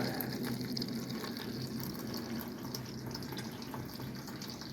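Cider siphoned into a fermenting vessel gives a steady, faint trickling and gurgling liquid flow, continuous and close with no voices.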